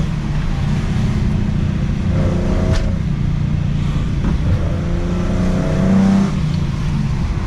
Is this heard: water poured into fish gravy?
no